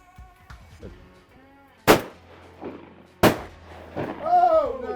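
Two sharp, loud shotgun blasts about a second and a half apart while hunting greenhead ducks, each cutting through nearby talk, with duck calls and chatter continuing between and after the shots.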